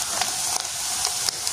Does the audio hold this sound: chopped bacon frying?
yes